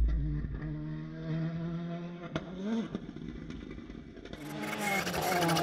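A VW Polo rally car drives a wet stage, its engine droning and revving up as it passes, with rising spray noise toward the end.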